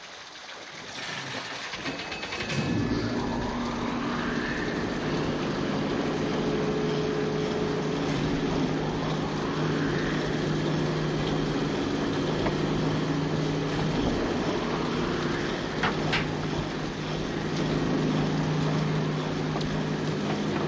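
Submarine engines in Disney's 20,000 Leagues Under the Sea start up after a quiet moment, then settle into a steady, droning mechanical hum that continues evenly and fairly loud for about eighteen seconds.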